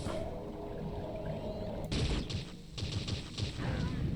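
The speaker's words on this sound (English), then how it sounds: "Let's fire the bio rifle round a little bit." Bio rifle firing in Unreal Tournament 99: after a steady droning hum, a burst of wet, splattering shots arrives in quick uneven volleys, loud and close.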